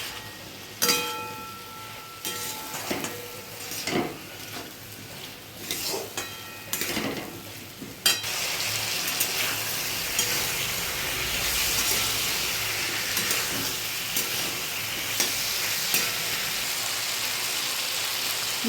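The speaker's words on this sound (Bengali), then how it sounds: "মাছের মাথাটা দিয়ে ভালো করে কষে নেব।" A fish head cooked with spices in oil in a wok (karai), with a few clanking stirs early on, then a steady loud sizzle and hiss that continues without talk.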